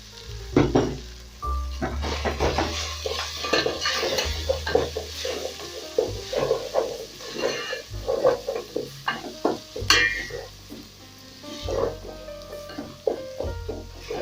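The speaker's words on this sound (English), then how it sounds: "I'll go in with my garlic. Then I'm also going to add in my pilau masala." Garlic and pilau masala hitting hot oil in a pot with the meat, loud bursts of crackling sizzle and repeated clattering spoon stirs against the pot, with no voices.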